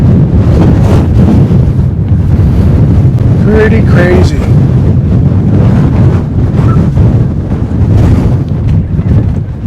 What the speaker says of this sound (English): Plus it's so windy, I'm going to lose my hat.